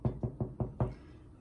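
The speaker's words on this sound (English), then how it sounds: "And he knocked the door again." Five knocks on a door in a steady, fairly quick rhythm, close and distinct, the last one a little harder, followed by quiet with no talking.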